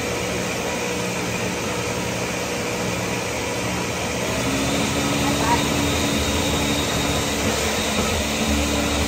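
A blender runs on high speed mixing chia seed chocolate pudding, giving a continuous loud motor whir that holds steady and rises slightly partway through.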